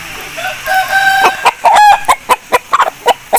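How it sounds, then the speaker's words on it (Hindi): Aseel rooster clucking in a burst of short sharp calls, then a brief crow among the clucks, close and loud with no talk. "इंतहाई अच्छा खूबसूरत असील है"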